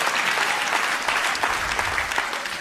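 Audience applause at a comedy stand-up show, a dense, steady burst of clapping from a live crowd that holds for a few seconds and tapers slightly at the end, with no voice on top.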